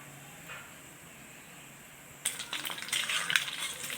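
Potato bonda balls coated in batter drop into hot oil, setting off a sudden loud, bubbly sizzle that keeps crackling steadily after a quiet start with no talk.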